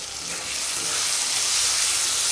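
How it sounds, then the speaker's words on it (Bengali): Spice paste of salt, turmeric and dried chili powder fries in a pan for a Bengali bata fish curry, making a close, steady hissing sizzle that swells slightly over a couple of seconds, with no voices. "সুন্দর করে মশলাটা কষিয়ে নেব"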